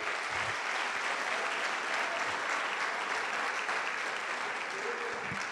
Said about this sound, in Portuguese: Você já era para estar aplaudindo Jesus.